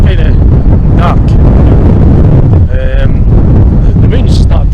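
Strong wind buffets the microphone constantly outdoors on a dark waterfront, producing a loud, rumbling roar with a few brief higher-pitched sounds over it.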